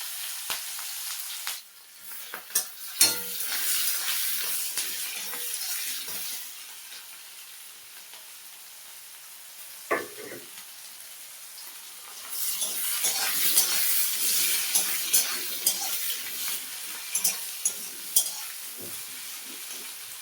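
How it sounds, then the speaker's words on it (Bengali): Chopped onion sizzles in ghee with cardamom, cloves and cinnamon, a steady hiss broken by sharp scrapes and clinks of a spoon stirring the pan, fading quieter in the middle before the sizzle rises again. "পেঁয়াজটা ভাজা হয়েছে"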